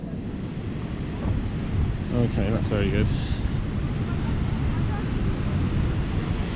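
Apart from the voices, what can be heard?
roar of Dettifoss waterfall in Iceland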